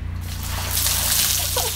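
Water is poured during a playful outdoor water fight, a steady close rush and slosh that swells midway and carries on with faint splashy detail, with no talk over it.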